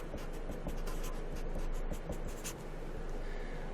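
Pen writing down notes for a series circuit example, with close, continuous scratchy strokes and rhythmic taps in a quiet setting.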